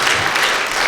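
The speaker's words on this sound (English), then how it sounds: "Himalaya Capital, let's give them a round of applause." A university lecture audience applauds a sponsoring investment firm, giving a brief, dense wash of clapping that stays loud and steady for under a second.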